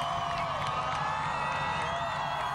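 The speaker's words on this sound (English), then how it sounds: "You can hear the thunderous cheers from that crowd." A large crowd gathered to greet Pope Francis on his arrival in the U.S. roars and cheers in a dense, continuous wash of voices and whoops, heard from a distance with no pause.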